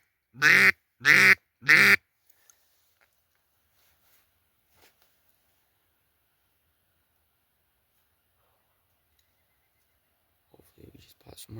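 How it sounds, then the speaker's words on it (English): Ducks swimming in toward a duck hunter give three loud, evenly spaced quacking calls close by, then near silence until faint, brief calls at the end. "ducks are swimming right in"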